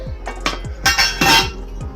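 Ginger added to a pot while making raw mango juice: a series of sharp metallic clinks and clatters of spoon against pot, several quick hits close by, no talking.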